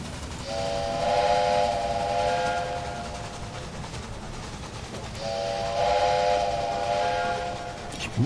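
A steam train whistle in the railroad strategy game Railway Empire sounds two long tooting blasts several seconds apart over a low rumbling game background, with no talking.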